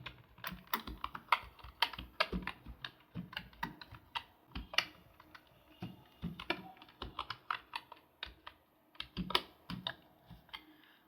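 Code being typed on a computer keyboard while writing a Python password generator, brisk irregular bursts of key clicks with short pauses, close and fairly quiet, no speech.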